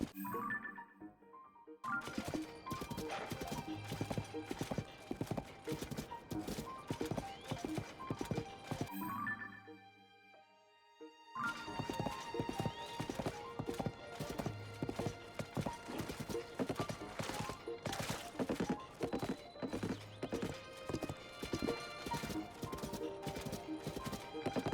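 A horse walks across a sandy desert track, its hooves clip-clopping in a steady, close, loud rhythm that pauses briefly midway before resuming, with a horse's whinny and faint musical tones mixed in.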